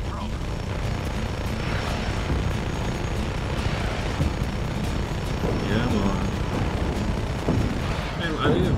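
Helicopter rotor thrumming in the Just Cause video game amid gunfire and explosions, a steady heavy drone with a player talking over it.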